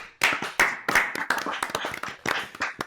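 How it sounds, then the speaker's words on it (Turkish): Several people clap close by in a loose, uneven burst of hand claps, sharp individual slaps rather than a smooth roar. "Alkış"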